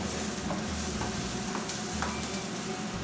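Asparagus cooking in a hot pan, an even, dense sizzle and crackle with faint scraping from stirring, steady and close throughout.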